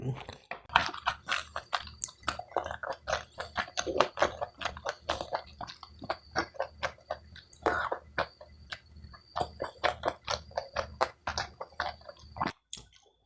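Close-up chewing of sushi in a mouth-sound setting, with steady wet, squishy bites and crunches in a regular rhythm, plus a few breaths and a short cough-like burst.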